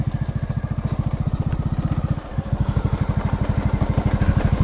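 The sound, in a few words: motorcycle riding off-road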